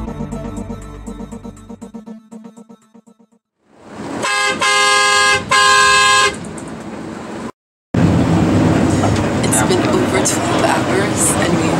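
Vehicle horns honking on an overnight bus ride in Vietnam, with loud, sustained blaring blasts from near the bus over steady road and engine rumble.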